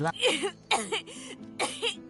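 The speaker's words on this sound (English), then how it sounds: "She stops mid-shout, descending into a fit of coughing, wheezing and groaning." A voice in the video game Divinity: Original Sin 2 coughs in several harsh bursts, with raspy wheezing breaths and strained groans between them.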